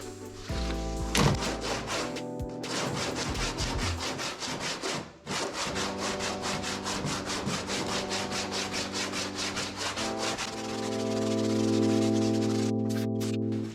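Gold body filler on a custom front car bumper being hand sanded, a rapid run of close, rhythmic rasping back-and-forth strokes, pausing briefly midway before a steadier droning sound takes over near the end.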